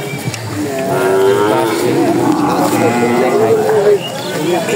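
Cattle lowing at a rural village livestock market ahead of Qurbani, the animals' calls rising over a steady crowd murmur with people talking nearby throughout.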